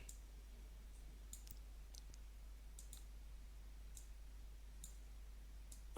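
A computer mouse clicks sharply several times at irregular intervals, faint and close over a low steady hum, while map files are selected in WinOLS.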